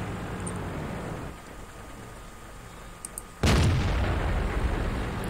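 A tank cannon fires in World of Tanks, one loud, heavy boom that cuts sharply over a steady low engine rumble and keeps ringing afterward.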